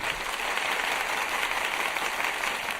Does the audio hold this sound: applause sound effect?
yes